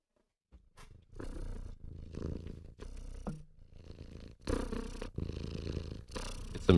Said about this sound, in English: Get some purring. Some zen purring.